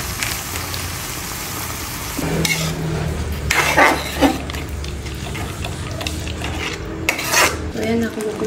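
A utensil stirs macaroni pasta with tomato spaghetti sauce in a pan, making wet, bubbling hiss with clinks and scraping strokes against the metal. The strokes come in uneven bursts and are close and fairly loud.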